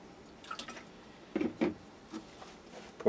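Deep purple liquid dye is poured onto fabric for a tie-dye spider design, making soft, close dripping and pattering splashes in a few brief bursts over a quiet background, with no talking.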